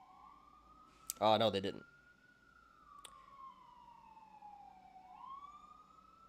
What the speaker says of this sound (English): This siren's pissing me off.